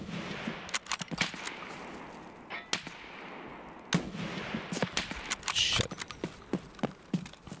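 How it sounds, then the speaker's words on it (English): Sharp gunshots crack in a Tarkov SPT raid, a rapid series of loud single reports and short bursts scattered across the stretch with quieter pauses between, no talking over them. "Who is shooting me?"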